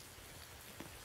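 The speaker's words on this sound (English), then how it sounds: "It's raining." Rain in the Roblox game Jailbreak, a steady quiet hiss of falling drops with no talk, faint and even across a brief moment.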